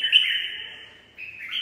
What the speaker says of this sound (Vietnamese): Chim nhà anh con nào cũng bán hết nha Đức Tài.